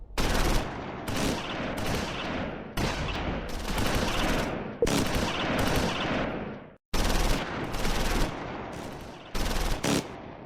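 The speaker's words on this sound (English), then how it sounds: "Second platoon's medium machine gun crossfires on infantry to the west." Medium machine gun fire in Close Combat 4, Battle of the Bulge at Esch sur Sure, heard as repeated loud sustained bursts of rapid automatic shots, each lasting one to two seconds with brief pauses between.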